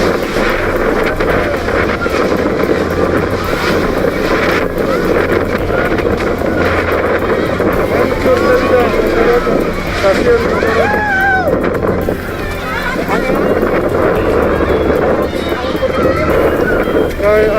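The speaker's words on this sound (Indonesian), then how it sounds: "Angin sangat kencang, tenda-tenda masyarakat terhambur" Strong, gusty wind roars steadily through an earthquake refugee camp of tents, a loud, continuous buffeting rush close to the microphone, with people talking over it throughout.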